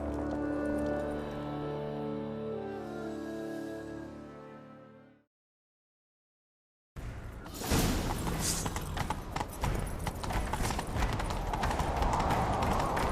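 Rhythmic horse hoofbeats in The Witcher 3: Wild Hunt video game clip-clop loudly after a brief silence, preceded by a sustained musical tone; the galloping thuds continue steadily to the end.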